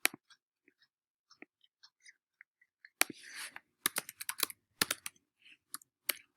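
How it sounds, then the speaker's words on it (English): Keys tapped on a computer keyboard to enter a code, sparse light clicks at first, then a quicker burst of close, crisp keystrokes. "you enter in the code and click submit"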